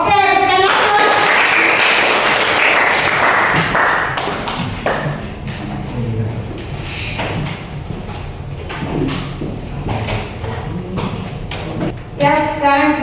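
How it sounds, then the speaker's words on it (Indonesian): Audience applause at an Indonesian classroom presentation on natural resources, a dense burst of clapping over the first few seconds that thins out, followed by voices and scattered thumps and taps. "Oke, berikan aplaus."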